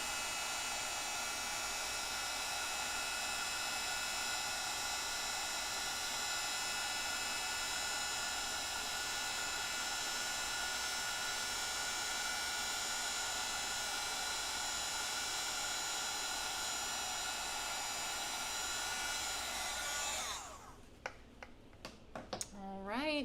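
Silicone-mitted hands hold an embossing heat gun that blows a steady, loud broadband hiss of hot air for about twenty seconds, then cuts off abruptly, leaving brief handling clicks.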